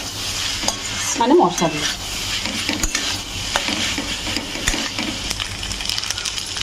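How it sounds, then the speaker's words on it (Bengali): Pasta being stirred in a frying pan with spices in a home kitchen, giving steady scraping and stirring clatter over a soft sizzle, with a brief spoken remark near the start. "পাস্তাটা দিয়ে এর মধ্যে ভালো করে নেড়ে নেবো"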